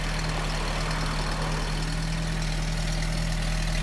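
A 1990 Peugeot 309 with a 1294cc engine idles steadily after a cold start on a freezing day, with a constant low rumble and hum nearby and no talk.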